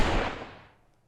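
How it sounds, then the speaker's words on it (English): A single default pistol bullet shot from the Wizard with a Gun video game, fired with no spells: one sharp, full-bodied blast that decays smoothly over about a second, heard alone. "So this is the sound of the default bullet on the pistol specifically with no spells."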